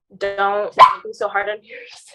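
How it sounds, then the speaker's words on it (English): A pet puppy gives a single sharp bark in the middle of an indoor conversation, set among nearby talking. "That's the dog."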